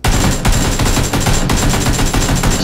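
Sustained automatic gunfire in PlayerUnknown's Battlegrounds hammers loud and close, a dense string of rapid shots with brief breaks, continuing nearly the whole time.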